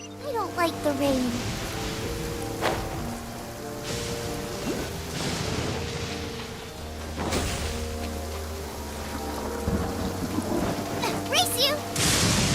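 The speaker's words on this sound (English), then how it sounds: "I don't like the rain." Rain and rumbling thunder fill a Genshin Impact game scene: steady close rainfall with several sharp thunder cracks and rolls, while voices talk over the storm.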